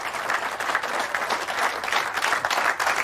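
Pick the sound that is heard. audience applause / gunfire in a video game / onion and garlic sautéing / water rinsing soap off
audience applause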